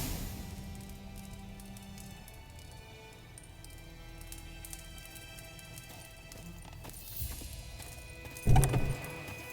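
Horse hooves clop and gallop in The Witcher 3, a soft rhythmic drumming under game ambience that ends in a louder thump.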